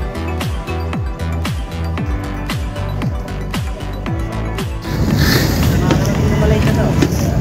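A boat engine idles at a lakeside port bound for Rizal, a loud, close, regular chugging thump that gives way to a broad, rushing roar as it revs up.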